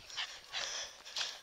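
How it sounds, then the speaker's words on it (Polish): A dog pants close by in three quick, breathy bursts, an airy rhythmic huffing with no other sounds around it. "Widzicie, tu mój pies."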